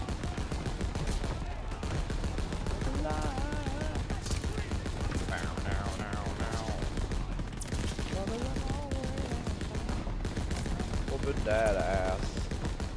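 Gunfire and artillery from a Call of Duty WWII battle, with a steady din of shots and blasts running the whole time under frequent excited talk.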